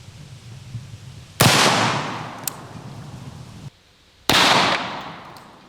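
Two loud, sharp gunshots fired into a human shield target outdoors, spaced about three seconds apart, each a close blast followed by a long fading echo.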